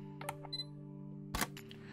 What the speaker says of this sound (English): Let's try and trigger a photo with the AFT mode here.